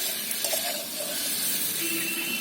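Fried cauliflower and potato sizzle in oil with a spice paste in a pan, giving a steady, close hiss with light stirring and no talking.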